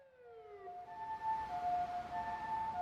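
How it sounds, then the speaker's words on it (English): Wailing sirens blare in a video game, several overlapping tones sweeping and holding steadily, fairly loud and continuous with no talk over them. "There are screams and blaring sirens."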